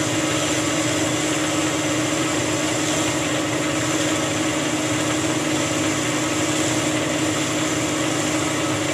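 A metal lathe turns a tailstock die holder part with a carbide insert cutting tool, giving a steady, continuous mechanical whir and hum that holds level throughout with no talking.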